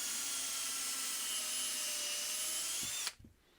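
A hand-held power drill with a 5/16 inch bit whines at a steady high pitch for about three seconds drilling into wood, then stops abruptly, followed by a few faint knocks.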